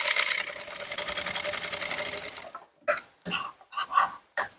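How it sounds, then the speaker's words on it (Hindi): A sewing machine stitches along the edge of a blouse strip with a steady, close mechanical whir for about two and a half seconds, then stops, followed by several short separate clicks and rustles. "किनारे पर सिलाई चलाते जाना है, बिल्कुल धीरे धीरे सिलाई चलाना है।"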